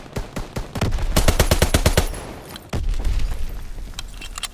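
Rapid, loud bursts of machine gun fire in a Call of Duty WWII team deathmatch on the USS Texas map. A quick run of close shots is followed by a heavier rolling burst, with no talk.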